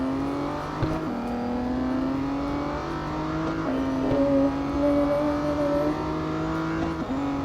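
Aston Martin race car in a racing video game accelerating steadily, its engine whine climbing through gear changes with brief dips between shifts, loud and continuous with no talk over it.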